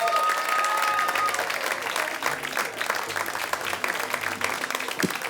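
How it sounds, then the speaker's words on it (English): A comedy club audience applauds steadily for the evening's final act, a dense, sustained wash of clapping with a few brief tonal calls near the start. "give it up for your final act of the evening"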